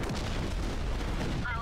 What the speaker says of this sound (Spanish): Me encanta la explosión en este juego.